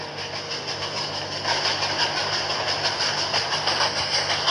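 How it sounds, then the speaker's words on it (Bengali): A video game train runs steadily with a continuous rumbling engine drone and a faint rhythmic clatter of wheels that grows slightly louder partway through, with no talking. "আমি একা পারছি না এই ট্রেন চালাতে"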